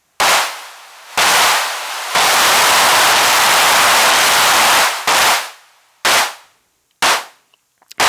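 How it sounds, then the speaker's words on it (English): Hexinverter Mutant Clap drum module firing loud, noisy electronic claps: several short, sharp bursts, plus one long sustained hiss when the clap is switched fully on, the final hits trailing into quick cut-offs. "You can get short clap sounds like that, and you can actually switch it fully on."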